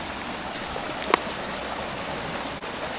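Water pours and splashes steadily onto soil, a continuous broad rushing flow with a brief splash partway through.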